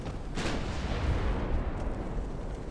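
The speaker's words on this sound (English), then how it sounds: "there's a ammo detonation, baby" A warship's ammunition detonates in the naval video game Ultimate Admiral: Dreadnoughts, a deep, rumbling blast with a sharp burst near the start that rolls on as a heavy, sustained boom.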